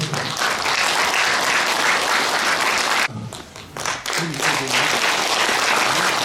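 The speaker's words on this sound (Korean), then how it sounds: "박수로 환영해 주십시오." An audience at a Korean academic conference in Uiryeong applauds to welcome a speaker, with dense, loud clapping that briefly thins midway and then swells again.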